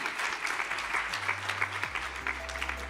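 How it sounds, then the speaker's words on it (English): Sustained applause from an audience at a regional dialogue event, a steady dense wash of many hands clapping at moderate distance with a low hum underneath. "A round of applause for them, please."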